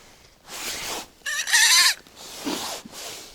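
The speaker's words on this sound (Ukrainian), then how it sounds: "катушечка як запищала" A fishing reel squeaks in one short, shrill, wavering burst while a mormyshka jig is reeled up during ice fishing for pike in Ukraine, set between softer rustling and handling noises.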